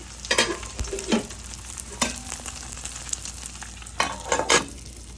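An egg fries in a pan with a low steady sizzle, broken by a few sharp spatula scrapes and stirs at intervals, close and fairly quiet.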